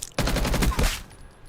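Scorpion Evo SMG fire in a video game: a loud, rapid burst of automatic shots lasting nearly a second, then a quiet tail with no talking.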